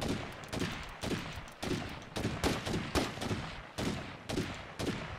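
Rapid bursts of firecrackers popping in the video game State of Decay 2, a steady crackling string of sharp reports in clusters, moderately loud with no talk over it.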